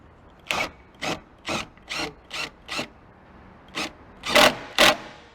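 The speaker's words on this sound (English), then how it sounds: "So now we are also going to go ahead to tighten it." A ratchet wrench tightening a bolt on a Mopar high-top fender of a Jeep JL Wrangler gives nine close, rasping clicking bursts in an uneven rhythm, with a pause before the last three, which are the loudest.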